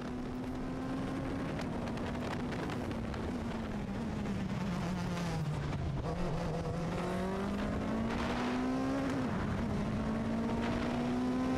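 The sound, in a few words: race car engine onboard at race start, Motorland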